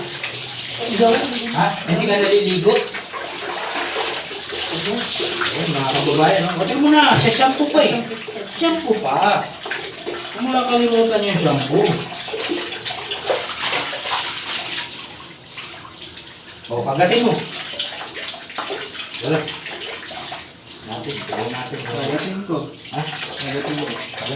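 Water splashes and pours during a soapy bath while people chatter and laugh over it almost continuously. Scrubbing and sloshing come up close under the voices.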